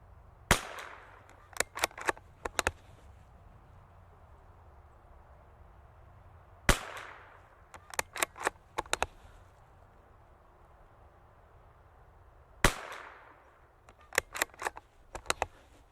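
Bergara BMR .22LR bolt-action rifle fired at targets outdoors, three sharp shots spaced several seconds apart, each followed by clicking bolt cycling, with no voices.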